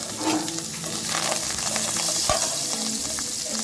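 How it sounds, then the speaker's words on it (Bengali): Cumin and black mustard seeds crackle and sizzle in hot oil, a busy, continuous frying sound with scattered pops and some stirring, close and fairly loud. "গরম তেলে দিয়ে দিচ্ছি 1/2 চামচ গোটা জিরে, 1/2 চামচ কালো সরষে"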